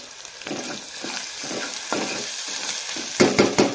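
Chopped onions tossed into hot oil in a pan for a chicken gravy, sizzling and crackling in uneven bursts with occasional stirring scrapes, close and moderately loud, growing busier toward the end.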